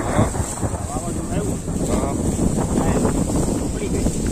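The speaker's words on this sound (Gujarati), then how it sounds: "જોઈ શકો આપડે પવન છે" Strong wind blows steadily across an open farm field after a recent storm, a loud, continuous rushing roar buffeting the microphone, with a voice speaking over it.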